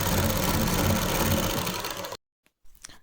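A sewing machine runs steadily as it stitches a belt, a loud continuous mechanical whir for about two seconds before stopping abruptly, followed by a few faint handling sounds.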